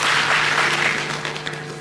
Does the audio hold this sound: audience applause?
yes